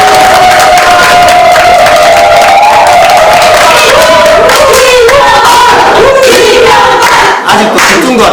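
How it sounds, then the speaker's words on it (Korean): A crowd at a National Assembly candidate's election campaign office opening ceremony in Gumi, South Korea, breaks into loud, dense applause and cheering that runs the whole time without a break. "박수 한번 부탁드리겠습니다."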